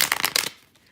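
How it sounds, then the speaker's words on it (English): A deck of cards is shuffled in a quick, close burst of papery flutter lasting about half a second. Near silence follows. "So we shuffle with your question in mind"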